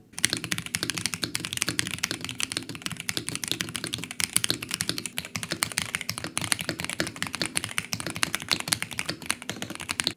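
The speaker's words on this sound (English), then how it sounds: "your keyboard will sound poppier than before" Rapid, continuous typing on a tape-modded ROG Azoth mechanical keyboard, with crisp, poppy keystrokes close up and no talking.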